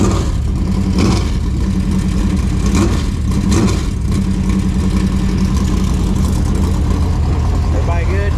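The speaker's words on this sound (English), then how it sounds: "We'll crank it before we go back to the track." A race car engine turns over and revs, a loud continuous rumble with rising and falling pitch, while people talk over it.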